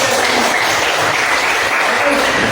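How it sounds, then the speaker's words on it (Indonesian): Classroom applause for a group of students, steady dense clapping from a roomful of people, loud and continuous with no break. "Tepuk tangan untuk"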